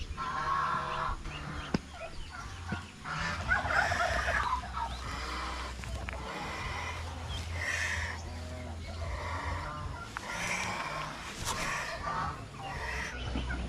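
Turkeys on a farm gobble repeatedly in overlapping bursts, close and fairly loud, with other fowl clucking among them over a low steady background hum.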